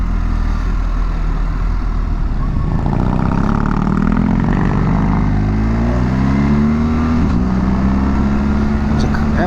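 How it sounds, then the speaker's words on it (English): Motorcycle with a 19-inch front wheel accelerating on the road, its engine note rising and then dipping through a slightly jerky shift from second to third gear, loud and steady with wind rush and someone talking over it. "shift from second to third there. It was all right, a little bit jerky."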